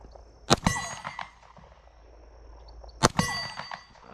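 FN Reflex pistol rounds striking a steel plate target, two sharp metallic clangs about two and a half seconds apart, each ringing briefly before fading, with no talk.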